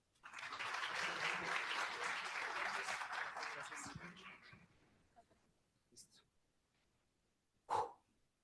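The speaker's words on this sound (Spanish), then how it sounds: "Un aplauso para él." An audience at a librarians' day celebration applauds in a dense burst for about four seconds, then the clapping dies away into quiet, broken by a couple of brief isolated sounds afterward.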